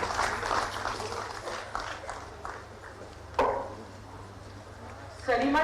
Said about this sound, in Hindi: तालियां लगातार होती रहे।